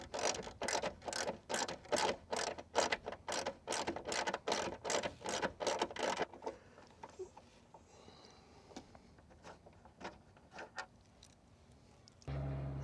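Close, rapid ratcheting clicks from a hand tool backing Torx screws out of the exterior mirror mount on a 1994 Ford F-150 XLT, a fast even burst that then slows into sparse clicks and light handling.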